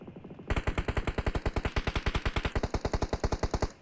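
An ACE32 assault rifle fires in PUBG Mobile: a long, steady burst of rapid, evenly spaced, loud, close shots after a brief quiet lead-in, with no talking.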